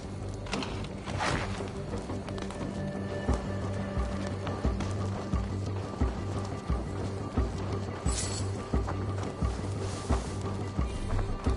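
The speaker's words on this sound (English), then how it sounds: "Now to deliver Magni his horse." Steady hoofbeats of a ridden horse, Magni's horse in Assassin's Creed Valhalla, a regular galloping rhythm running the whole time, close and fairly loud under a layer of ambient game sound.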